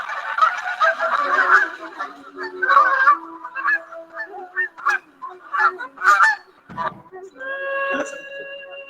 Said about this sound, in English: The geese flying on the V formation, they quack to encourage to the ones in front.